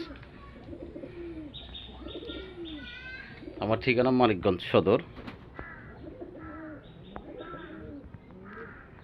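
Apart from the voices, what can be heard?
pigeons cooing at a pigeon farm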